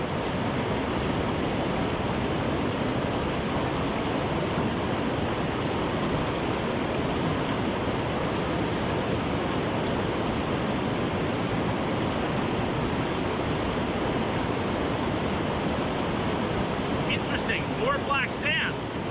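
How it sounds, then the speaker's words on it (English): Loud, steady rushing of a river at a gold-prospecting claim with black sand, a dense continuous roar filling the whole stretch, close and unbroken. "This river is very, very loud."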